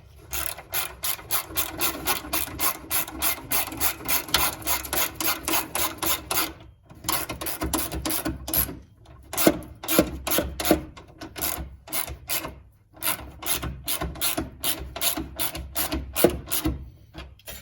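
A ratchet wrench with a 15mm socket tightens a shock absorber bolt on a Ford Falcon, giving long runs of close, rapid clicks in steady bursts with brief pauses between strokes, and no talking.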